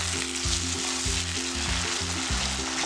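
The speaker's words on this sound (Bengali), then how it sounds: "মশলাটা সুন্দর করে একটু কষাতে হবে।" Masala for a fish curry cooks down in a pan, a loud continuous sizzle beneath a steady pulsing low hum, with nobody speaking.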